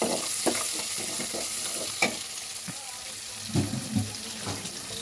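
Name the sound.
stirring turnip curry with spices in a pan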